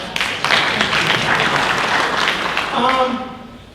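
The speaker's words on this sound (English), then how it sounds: "Yeah, they deserve an applause." Residents at the Solivita annual meeting applaud the landscaping company, a full burst of clapping that swells quickly, holds, then fades as a voice begins speaking near the end.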